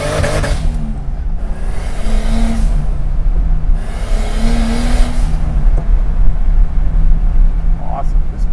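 A 1972 BMW 2002 turbo fitted with a swapped E30 engine accelerates in loud, rising bursts with gear-change dips, heard from inside the car, while people talk over the engine.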